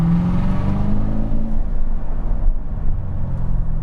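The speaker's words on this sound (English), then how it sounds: "Listen to this as the sound of the car echoes off the canyon walls early in the morning." A Chevrolet C7 Corvette Z06 engine echoes off canyon walls early in the morning, with a loud steady engine drone that gradually fades and thins into a lower rumble, and no voices.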